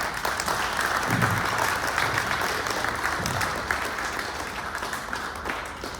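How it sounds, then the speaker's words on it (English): A school spelling bee audience applauds steadily throughout, a dense, even wash of many hands clapping in a large room that holds at full strength before easing slightly near the end. "I think everyone up here deserves a round of applause"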